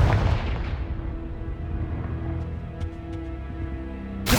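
A Confringo spell blast in the PC game Hogwarts Legacy: a loud booming burst at the start that rolls into a long low rumbling decay, with a few faint sharp crackles later and another blast hitting at the end.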